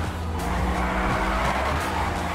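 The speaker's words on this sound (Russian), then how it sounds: "Дрифтом зайдем." Bugatti Veyron drifting into a turn in GTA 5 during a police chase, a loud steady engine roar with tire squeal running through the whole stretch, no talk.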